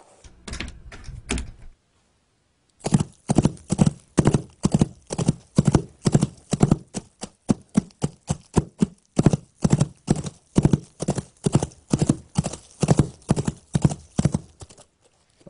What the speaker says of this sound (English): I just laid down the horse footsteps